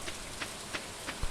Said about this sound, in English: oh, it's raining though